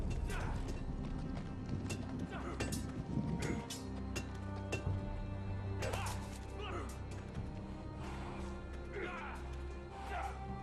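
Horse hooves clip-clop steadily in the Game of Thrones video game at Castle Black on Xbox One, mixed with clanks and ambient noise while voices talk over them.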